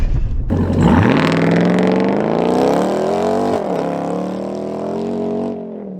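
A 2022 Ram TRX truck in Baja mode with traction control off launches hard off-road, its engine roaring loud and close, then climbing steadily in pitch for about five seconds before easing off.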